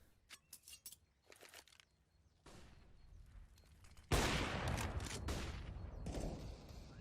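Gunfire in a competitive CS:GO esports match: scattered sharp shots and short bursts at a moderate distance, then a louder stretch of rapid shooting, with metallic clinks in between.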